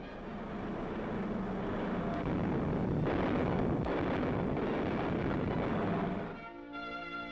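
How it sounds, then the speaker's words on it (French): Military aircraft taking off in 1944, British and American planes, as a steady loud engine roar that swells and holds for several seconds before cutting to a quieter tonal hum at the end. "des avions britanniques et américains décollent pour la France"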